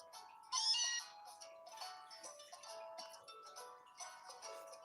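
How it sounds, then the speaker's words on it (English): A cat-like meow from the Pokémon Meowth in the video game Pokémon Moon, one bright call near the start over game music, followed by quieter background music. "this is when you get woken up by Meowth"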